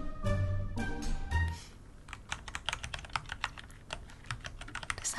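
Rapid typing on a Dygma Defy mechanical keyboard with Kailh Speed Silver switches and ABS keycaps, a steady stream of close, crisp light clicks, starting under some low rumbling noise and then continuing alone.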